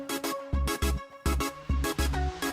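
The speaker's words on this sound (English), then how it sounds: "You can hear it ping pong or not ping pong, but delay in the background." Synth track with ping-pong delay and feedback, heard as rhythmic, punchy electronic music with a pulsing bass beat and repeating echoed synth tones trailing behind each hit, loud and without talk.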